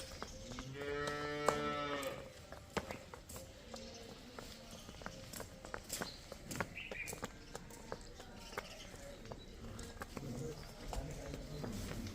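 A cow on a dairy farm moos once near the start, a short, harmonic low call, followed by faint shuffling, clattering and hoof sounds against quiet background chatter.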